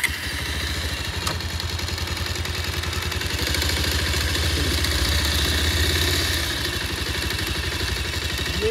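A Bajaj Pulsar 220F motorcycle idles on its main stand with a steady, loud, mechanical clattering engine note that holds even throughout, with a slight swell in the middle and no speech.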